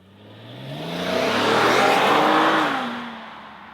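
An Infiniti QX70's naturally aspirated 3.7-liter V6 revs up, swelling to a loud, steady roar, then eases back as the pitch settles, with no talking.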